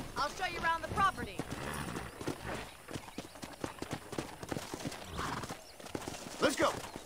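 Horse hooves clip-clop in a steady ridden rhythm in Red Dead Redemption 2, with a brief whinny and voices talking over the moving hoofbeats.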